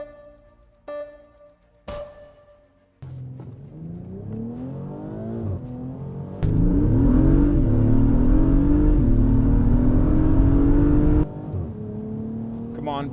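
An Acura MDX Type S SUV launches in a drag race against a BMW X5, the engine revving and climbing hard through rising gear sweeps, loud and close, with voices talking over parts of the run.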